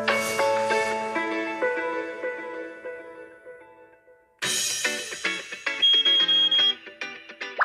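A melodic morning alarm tone rings out in two bright, chiming phrases, the first fading gradually before a brief gap and a louder second burst; no voices.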